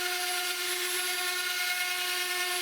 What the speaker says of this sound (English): When the glue was dry, I sanded the panel smooth.